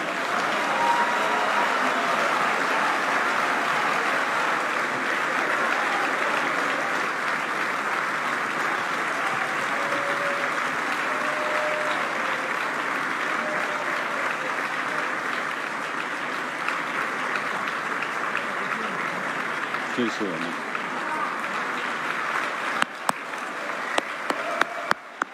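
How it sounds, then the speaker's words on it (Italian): Sustained applause from a large audience at a Coldiretti farmers' gathering welcoming Italian Prime Minister Giorgia Meloni, a steady dense roar of clapping lasting throughout, with a few sharper claps near the end. "Facciamo un grande applauso al nostro Presidente del Consiglio."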